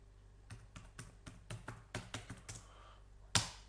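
Typing on a computer keyboard, a quick run of about a dozen light key clicks up close in a quiet room, ending with one sharper, louder tap.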